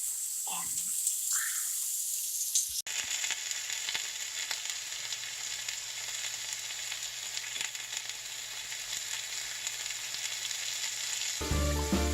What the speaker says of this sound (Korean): 여러분 들리시나요? 고기 굽는 소리가 나요.